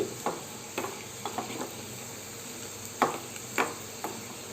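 Garlic fries in oil for a mango dal tempering (Ganga Valli kura pappu), with a soft continuous sizzle broken by several scraping stirs of a ladle against the pan.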